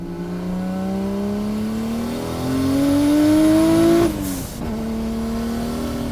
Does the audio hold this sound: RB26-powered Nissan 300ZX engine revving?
yes